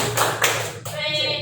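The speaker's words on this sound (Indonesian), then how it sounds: "tepuk PJOK" First-grade primary school children in a physical education class perform a rhythmic clapping routine, a few sharp group claps close by followed by a sustained tone.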